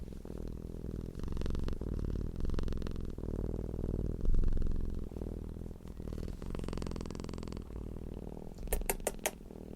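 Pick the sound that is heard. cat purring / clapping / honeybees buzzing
cat purring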